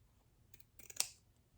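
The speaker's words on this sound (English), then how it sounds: "I'm going to take my scissors" A pair of scissors snips through elastic from a drawstring waistband being replaced: a few light rustles, then one sharp, close cutting snap.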